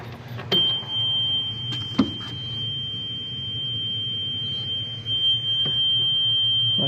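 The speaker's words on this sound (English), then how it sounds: "Why is it beeping so much at us?" A steady high electronic beep tone sounds continuously from a John Deere 450H with a dead display, with a few clicks and a low engine hum beneath.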